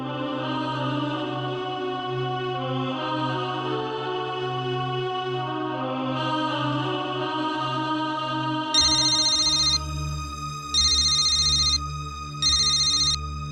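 A melodic ringtone plays over background music, then a bright repeating phone ring sounds in three bursts with short pauses between them.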